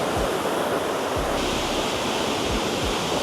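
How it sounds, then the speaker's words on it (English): A Swiss waterfall near Iseltwald on Lake Brienz, heard from up close as a steady, loud, unbroken roar of falling water. "And here's the waterfall up close."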